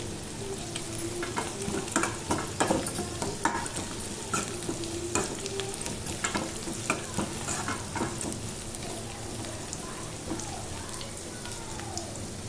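Dried red chillies frying in hot oil in a pan for a tempering, a dense crackling sizzle with scattered sharp pops and stirring scrapes, steady and close throughout.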